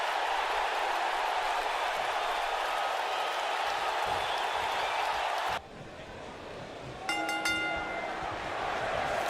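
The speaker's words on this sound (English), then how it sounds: "Crowd's still very much excited to see him in the ring" Arena crowd in the wrestling video game WWE 2K19 roaring and cheering steadily, a dense wash of noise that drops abruptly partway through, followed by quieter ambience and a brief tonal sound.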